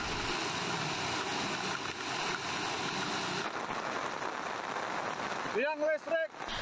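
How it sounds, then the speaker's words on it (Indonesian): Heavy rain driven by strong wind lashes the area around Polan Harjo, Klaten, a loud continuous roar of downpour and gusts that changes character midway, with a voice briefly heard near the end. "Hujan deras disertai angin kencang melanda sejumlah wilayah."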